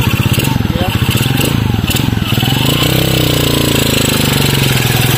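A motorcycle engine chugs loudly and close, a rapid pulsing putter that holds steady throughout, with voices talking over it.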